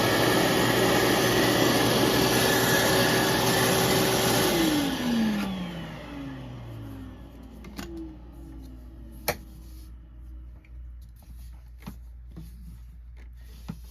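A shop vac runs with its hose shoved into a clogged vacuum, a loud steady suction roar that winds down partway through, leaving a quieter hum broken by a few sharp clicks and knocks.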